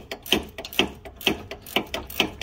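A socket wrench ratchets on a Chevy Cobalt sway bar link bolt, a series of crisp, evenly spaced metallic clicks in a steady rhythm, close and clear.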